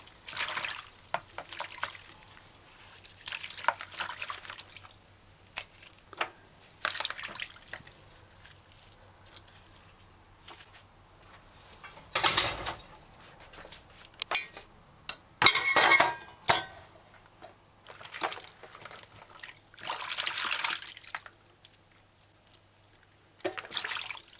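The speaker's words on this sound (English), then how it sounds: "Drizzle several drops of distilled white vinegar in the water and kind of wash the vegetables properly." Vegetables are washed by hand in a basin of water with drops of distilled white vinegar for a Jamaican side salad: intermittent splashing, dripping and sloshing in bursts, with soft clinks and quieter gaps and no talking.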